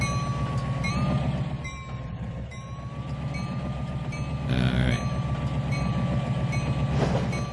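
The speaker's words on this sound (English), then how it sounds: "Tried to slow the train down" A video-game train from Trainz 2019 rumbling along the rails with a steady low drone and a sustained whistle-like tone, with a short spoken phrase partway through.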